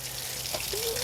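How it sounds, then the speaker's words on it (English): Water runs from a tap as cement is rinsed off masonry tools such as a trowel, a faint, brief splashing trickle. "So rinse off your tools."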